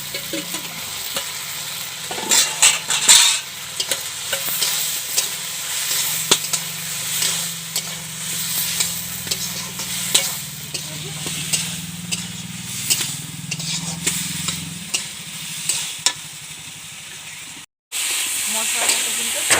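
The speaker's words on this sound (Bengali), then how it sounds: "মশলাটা কিন্তু সয়াবিনে ভালোভাবে কষানো হয়ে গেছে" Spiced soya chunks and potato frying in a pan for a vegetarian paneer masala, with a steady sizzle and repeated stirring scrapes, plus a low hum through the middle, close and fairly loud.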